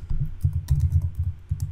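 Computer keys are typed in quick short bursts, close and soft-clicking with brief pauses between groups of keystrokes and no voices.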